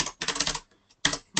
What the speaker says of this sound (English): it's not very interesting me typing out budget constants